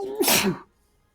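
One loud, close human sneeze bursts out sharply and cuts off into silence, heard alone in a quiet indoor room.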